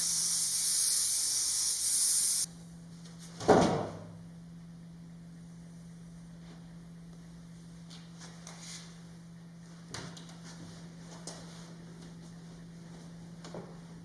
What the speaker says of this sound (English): I applied spray adhesive on the webbing side of the frame and foam